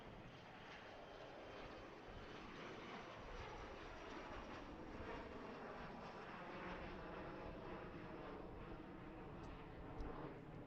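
Aircraft departing Harrisburg for Philadelphia, a steady full-band engine roar that stays loud and even throughout, with no one talking.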